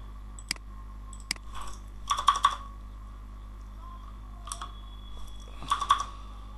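Computer keyboard being typed on during setup of a YouTube channel banner page, heard as scattered short bursts of clicky keystrokes separated by pauses over a steady low hum, fairly quiet and with no voice.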